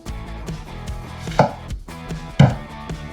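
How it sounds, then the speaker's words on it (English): A knife chops an onion into julienne strips on a board, giving a few separate sharp strikes, two of them loud and distinct, against a faint background. "we're going to chop up the onion"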